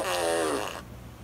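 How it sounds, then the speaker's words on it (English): A fart machine used as a prank lets out one loud, drawn-out, buzzy raspberry lasting under a second, then cuts off to quiet room noise. "Do you like the fart machine?"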